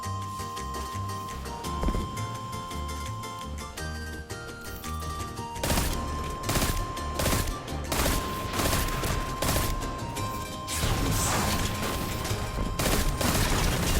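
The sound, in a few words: pulse rifle gunfire in video game Destiny 2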